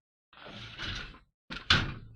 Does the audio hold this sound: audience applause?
no